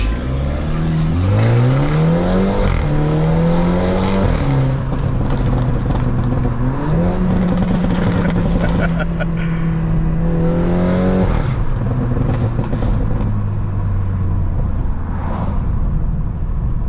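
A 400hp BMW G20 330i engine revs loudly and steadily up and down for the whole stretch, the pitch climbing and falling in repeated sweeps, heard from close by with no talking.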